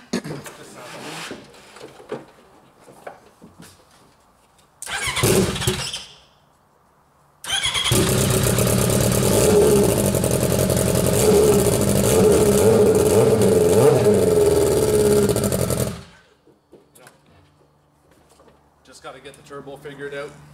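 A VK 1000 engine, apparently in a powered vehicle raced on grass, roars into a loud, sustained run lasting several seconds after an earlier brief burst, with shifting revs, then cuts off; quieter handling noises and talk surround it.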